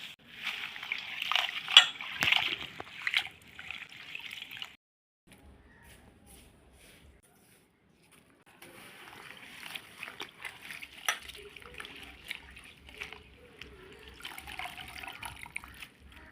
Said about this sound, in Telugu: నీళ్ళల్లో వేసి కడుగుతున్నానండి.